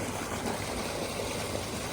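Steady rushing of water flowing through a farm irrigation channel, a continuous broadband wash with no voices.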